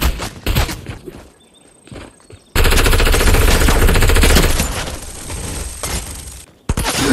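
Automatic gunfire in Fortnite during a Halloween Fortnitemares match, loud bursts of rapid shots filling the middle of the stretch after quieter scattered shots and footsteps, ending abruptly.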